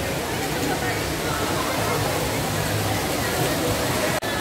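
Mahihay Falls roars as a loud, steady broadband rush of falling water heard up close, with crowd chatter faintly mixed in under it.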